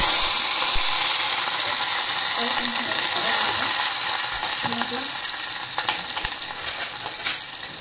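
Cumin, asafoetida, green chillies and curry leaves sizzle in hot oil in a home kitchen, a loud, steady crackling hiss throughout, with occasional clinks and a voice speaking faintly underneath.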